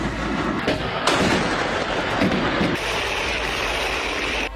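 Artillery shells fired across the Line of Control, a loud sustained roar with heavy booming impacts near the one-second mark and again around two to three seconds, dense rumbling throughout.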